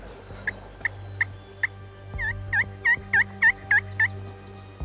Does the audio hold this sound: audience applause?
no